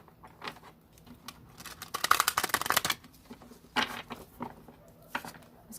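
A tarot deck is shuffled by hand in a quiet room: scattered soft riffles and taps, then a dense, crisp riffle burst in the middle and a few more close, light card slaps toward the end.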